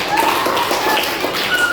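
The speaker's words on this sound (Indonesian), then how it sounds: "Tepuk tangan dulu untuk kita." Classroom applause from a group of students, a steady dense patter of many hands clapping together without a break, fairly close and even in loudness.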